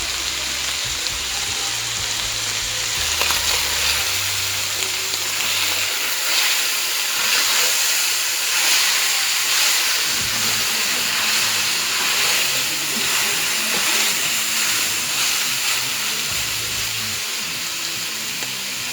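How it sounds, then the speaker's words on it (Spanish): Steady sizzling and hissing of meat for goulash browning in a hot pan, continuous and close, with faint low rumbling underneath; no talking. "Escuchen cómo se va cocinando la carne y cómo nos vamos dando cuenta que se está dorando por debajo"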